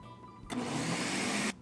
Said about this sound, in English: we're going to place it on our blender and we're going to blend it for about a minute